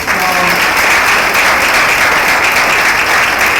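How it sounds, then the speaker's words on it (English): Loud, steady audience applause at a Nation of Islam gathering, a thick wash of close clapping that holds at full strength from start to finish. "So let's give our baby a round of applause."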